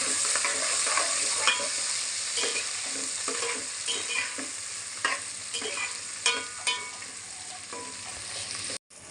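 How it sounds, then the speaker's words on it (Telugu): Onion and green chilies fry in oil in a pan for korameenu curry, with a continuous close sizzle and repeated scraping stirs throughout; the sound cuts off briefly right at the end. "ఉల్లిగడ్డ కూడా వేసుకుందాం కాసేపు మిక్స్ చేసుకున్నాం ఇలా"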